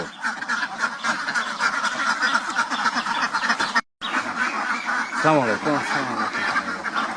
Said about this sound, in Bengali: এগুলা কি জাতের হাঁস এটা হলো ক্যাম্বেল হাঁস